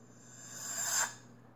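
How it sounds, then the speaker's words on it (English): A reversed crash cymbal swells gradually in a hip hop remix, rising to a bright peak near the end before cutting off abruptly, heard alone at a moderate level. "you can also reverse it so that you have a crash that's leading up to the loop"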